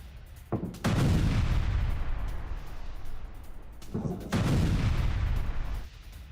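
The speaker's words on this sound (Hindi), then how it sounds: "लेबनान के कफर तिबनीत में भीषण हमले जारी हैं" Artillery fire and heavy strikes in Kafr Tibnit, Lebanon, heard as two long rumbling blasts with rolling low booms and a sharp crack, loud and unbroken by talk.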